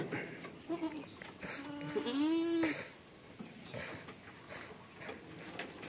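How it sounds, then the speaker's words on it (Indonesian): Goats raised for fattening bleat nearby, a few wavering calls clustered in the first seconds among farm background noise, while a person talks in the pen. "Ini kambing yang siap untuk dibesarkan."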